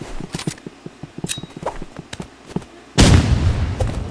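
A grenade blast in the game Rivals lands as a loud, dense burst of noise about three seconds in, after a run of sharp, separate clicks and taps.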